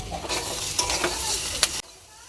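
Green chillies going into hot oil with potatoes, onion, tomato and salt for a vegetable curry, loud sizzling and scraping stirs with a few sharp clinks before the sound cuts off abruptly.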